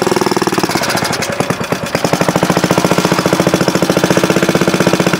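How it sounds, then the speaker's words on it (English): An antique Moto-Mower's small engine runs steadily up close, its rapid, even firing pulses loud and continuous with a slight unsteadiness early on before settling into a smooth rhythm. "Boy, that runs nice, doesn't it?"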